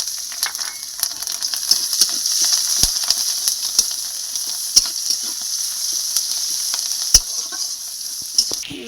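Onions sizzle steadily in hot oil with a bright continuous hiss, broken by sharp clicks and taps of a spatula against the pan at irregular intervals, with no one speaking.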